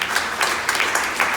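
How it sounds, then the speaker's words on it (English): An audience claps briefly, a soft scattered patter of hands for a few moments, with no voices over it. "You're all clapping my way"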